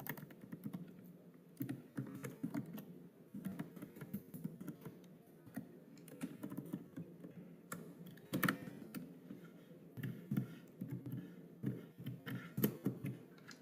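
Someone types a login ID and password on a computer keyboard, with a steady stream of light, close key clicks in irregular bursts and occasional heavier taps, no talking.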